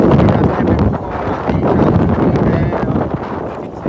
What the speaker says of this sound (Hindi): मिट्टी का तूफान चल रहा है